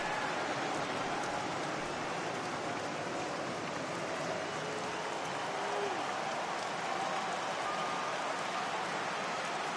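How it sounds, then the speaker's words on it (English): Steady rain hisses as a continuous, even wash throughout a baseball video game, with a faint tone drifting underneath and no breaks. "the rain starting to intensify here. It's coming down a little heavier now."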